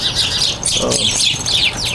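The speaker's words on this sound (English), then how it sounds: "got the birds having a squabble here" Birds squabbling close by, a busy overlapping tangle of sharp chirps and scolding calls that carries on continuously over a low background rumble.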